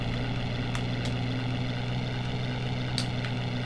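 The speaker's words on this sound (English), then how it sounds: "I think that's a chopper flying over." Real helicopter flying overhead outdoors, a steady low rotor drone continuing throughout at moderate volume, heard without talk.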